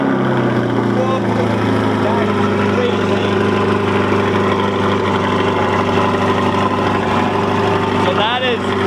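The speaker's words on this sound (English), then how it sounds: "this is gonna be the cold start on the C8 Corvette with the Yonristic X-pipe F1 style exhaust" C8 Corvette with a Yonristic X-pipe F1-style exhaust on a cold start, holding a loud, steady droning idle close by, with a person speaking over it.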